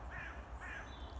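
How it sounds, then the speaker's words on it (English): Two harsh caws from a crow in quick succession at Denton Burn Dene, faint and distant over a steady outdoor background hum. "I can hear a crow."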